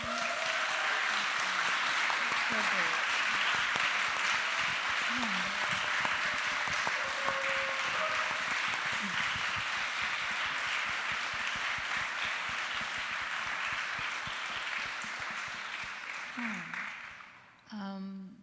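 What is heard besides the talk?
audience applauding the guests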